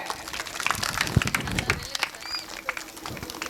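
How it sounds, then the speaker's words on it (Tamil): Applause at a school function honouring a headmaster, scattered hands clapping at moderate distance in a loose, uneven patter, fairly quiet, with a few voices mixed in. "அன்பு கரம் கொண்டு அவருக்கு கைத்தட்டுங்க"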